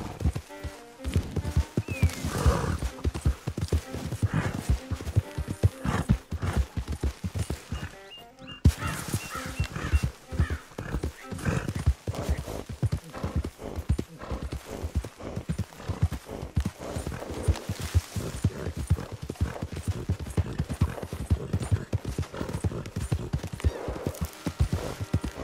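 Horse hooves clip-clopping steadily in the video game Red Dead Redemption 2, a close rhythmic trot with snorts and an occasional whinny, continuing after a brief pause.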